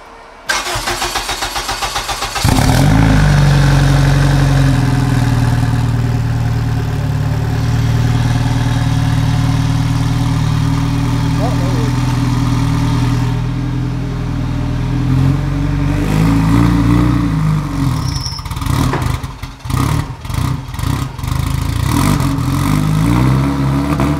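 A 750 hp Lotus car engine starts with a sudden loud burst, settles into a steady, throaty idle, then blips through several sharp revs toward the end, close and alone.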